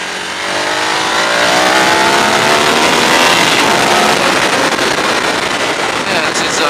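A 2015 Ducati Hyperstrada V-twin motorcycle engine while riding, a loud continuous engine roar rising in pitch as it accelerates, with heavy wind rush throughout.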